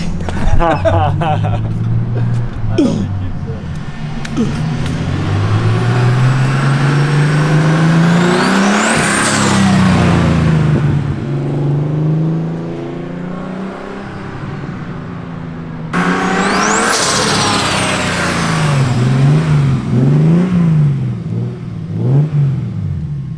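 A loud turbocharged BMW E36 engine revs and accelerates hard, pitch climbing and dropping through the gears, with a second strong pull near the end and voices mixed in.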